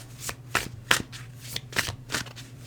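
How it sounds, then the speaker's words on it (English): Tarot cards are shuffled by hand in a series of crisp, loud riffling bursts of about six, close up, with a steady low hum behind them and no talking. "I'm just gonna pull like maybe 4 cards."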